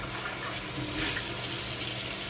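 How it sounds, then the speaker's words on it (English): Water running from a kitchen tap as a cup is rinsed out, a steady close splashing flow with no talk. "So I just rinsed out my cup."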